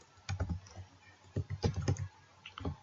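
Keys clack on a computer keyboard while an Excel formula is typed, quiet close taps arriving in short irregular bursts separated by pauses.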